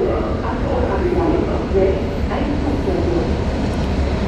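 A construction train rolls through Braunschweig main station at night, a steady broadband rumble of rail cars that holds from start to finish at moderate loudness, with faint tonal squeals above it.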